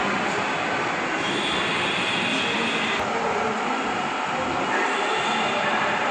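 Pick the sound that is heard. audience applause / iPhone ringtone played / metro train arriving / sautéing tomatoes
metro train arriving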